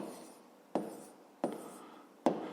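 A hand writes numbers for a fifth-grade maths exercise: three distinct pen strokes land at even intervals over quiet paper rustle, each with a short scratchy tail, close and soft, with no speech.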